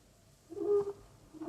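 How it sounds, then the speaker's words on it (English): Owl hoots as a radio drama sound effect, a soft low call rising briefly and then another starting, faint and isolated against a quiet background. "Nothing but the owls and the clock striking midnight."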